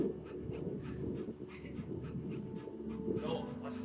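A puppy pants steadily and close by in the video game That Dragon, Cancer, with soft breathy puffs running throughout and a brighter hiss near the end.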